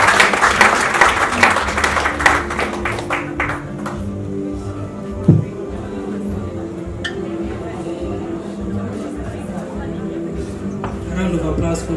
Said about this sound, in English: let us put our hands together to welcome our first candidate, Bwana James Mwamu.